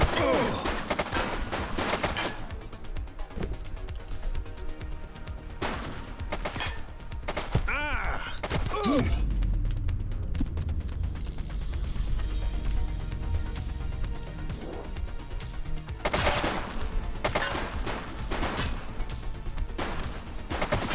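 Gunfire in The Precinct police video game: repeated sharp shots in bursts over a dense, loud game soundscape with rumbling and crashes, alongside a voice talking.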